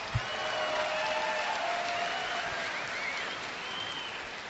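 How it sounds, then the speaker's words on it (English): Crowd applause at the Day 2 weigh-in of the 2014 Bassmaster Classic bass fishing tournament, a steady dense wash of clapping with some cheering, sustained and fairly loud throughout. "One big round of applause."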